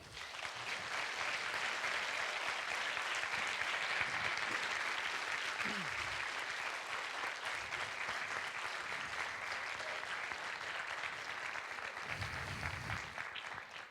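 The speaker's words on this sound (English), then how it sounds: "I would like that all of you give them a big round of applause" Sustained applause from a large audience at a general assembly gathering in Tallinn, steady dense clapping filling the room for the whole stretch without pause, a few faint voices briefly underneath.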